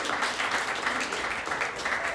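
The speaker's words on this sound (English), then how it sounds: "Round of applause." Applause from the audience at a small standup comedy show fills the room, a steady patter of many hands clapping at moderate volume, even and continuous with no voices on top.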